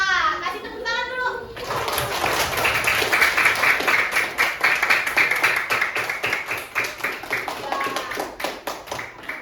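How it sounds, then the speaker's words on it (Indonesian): Fourth-grade children in an elementary school classroom clap together in a steady, patterned rhythm, loud and close, after a brief burst of kids' voices at the start. "Kasih tepuk tangan dulu."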